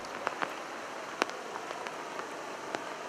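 Rain falls during the rainy season at the headwaters of the São Francisco river, a steady close hiss with scattered louder drops tapping a surface.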